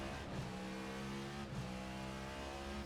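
Cadillac V-Series.R race car engine in a racing game at Motegi, a loud steady high-pitched drone climbing under partial throttle with traction control cutting in, two brief dips where the revs stutter.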